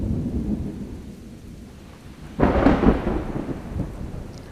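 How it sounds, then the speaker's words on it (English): Rain and a rolling rumble of thunder over a watershed model, steady patter with a loud thunder swell rising partway through and fading slowly, no voices. "Oh, here comes some precipitation now."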